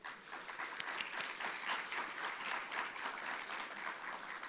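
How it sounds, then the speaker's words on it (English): An audience at a university and college event on food systems claps steadily for a few seconds, a dense even patter of many hands at moderate distance. "Please give him a round of applause."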